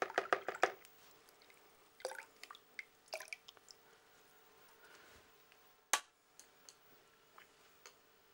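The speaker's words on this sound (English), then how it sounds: "Wash the brush out." Acrylic paintbrush being rinsed in a water pot, faint scattered taps, clinks and small drips at irregular intervals with quiet gaps, one sharper knock near the end.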